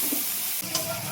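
Soya chunks hit hot oil in a pan with turmeric, bay leaf, cumin, onion and spices, giving a steady loud sizzle with a brief stirring scrape, close and alone.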